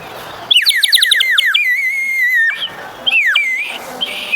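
Bubbling, warbling trills from a water-filled bird whistle toy bought in Thanjavur, breaking into a long wavering tone, then two shorter burbling bursts; loud and close.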